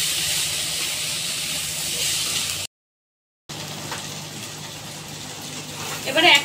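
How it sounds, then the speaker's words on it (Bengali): Chopped radish, tomato, green chilli and potato fry in a pan with a loud, broad steamy hiss. The sizzle cuts out briefly, then returns, and stirring clatter builds near the end. "দিয়ে একটু ভালো করে আবার আমি ভেজে নেব"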